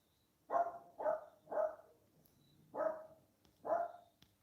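A dog barks five times in a steady, evenly spaced series of sharp, mid-pitched woofs, fairly close and clear against a quiet background.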